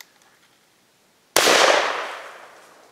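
A single .410 shotgun shot loaded with PDX disc and BB home defense shells, fired at 7 yards, cracks out loud and sharp after a quiet moment, then a long echoing decay fades away.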